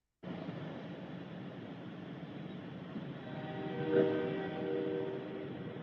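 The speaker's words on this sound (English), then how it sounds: "I hear a train a coming." A train rolls past along the Ohio River near Wheeling, West Virginia, heard from a fishing boat as a steady low rumble that swells toward the end, with a brief horn-like tone in the middle.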